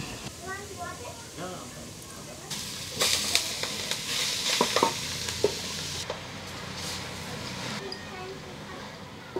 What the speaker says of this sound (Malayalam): ക്യാരറ്റ് ഇട്ട് ഇളക്കുവാണ്